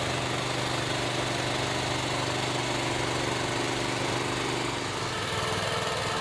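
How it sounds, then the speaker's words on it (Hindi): A petrol two-wheel walking tractor with a plough runs steadily up close, its loud engine droning and vibrating continuously with a busy mechanical rattle throughout, no talk over it. "पेट्रोल का आवाज़ काफ़ी ज़्यादा है"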